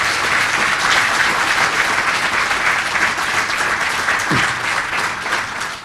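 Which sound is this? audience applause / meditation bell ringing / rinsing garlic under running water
audience applause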